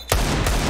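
Rapid loud gunfire in the shooter game Counter-Strike, a burst of close, punchy shots in quick succession after a brief quiet start, dense and continuous with no talk.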